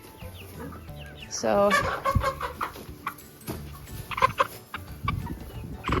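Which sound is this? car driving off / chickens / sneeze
chickens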